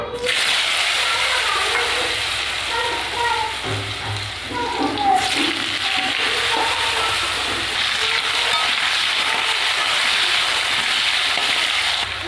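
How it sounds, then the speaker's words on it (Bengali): Potatoes fry in oil with a continuous hiss and scattered crackles, steady and fairly loud, with a few clunks of a utensil against the pan partway through. "এবার আলুগুলো ভেজে নেব।"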